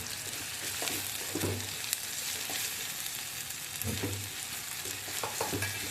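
Spices for Salem kara kuzhambu being stirred and sautéed in a pan, a steady sizzle and frying hiss with repeated scraping stirs, close and continuous with no talking.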